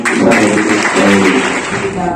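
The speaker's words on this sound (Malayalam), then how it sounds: "മൊയ്തി കുട്ടി സാറിന് ഒരു വിളിച്ച കൈയടി കൂടി നൽകണമെന്ന്" A school function audience applauds a teacher, with a burst of dense clapping that lasts about two seconds and mixes with crowd voices.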